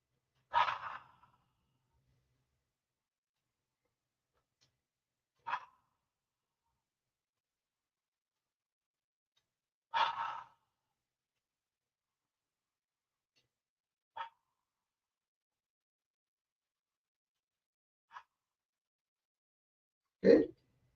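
Deep, slow breaths during a morning yoga breathing exercise, heard as six separate soft whooshes spaced several seconds apart, quiet and close with silence between them.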